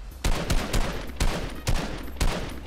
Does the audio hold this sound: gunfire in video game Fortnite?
yes